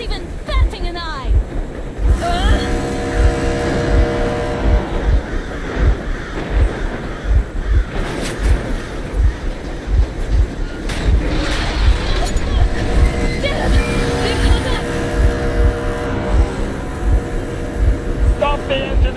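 A vehicle engine runs steadily in the Metro Exodus video game, a low rhythmic throbbing that continues through the whole stretch alongside wind and water-like noise, with voices talking over it.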